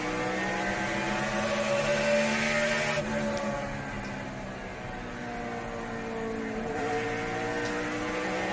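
A NASCAR stock car engine at the 2008 Food City 500, heard onboard with a steady loud droning roar whose pitch dips and climbs as the throttle is worked into a corner, no talk over it.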